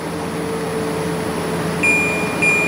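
An air conditioner compressor runs with a steady, close electrical hum and a faint high whine, the drone holding level throughout.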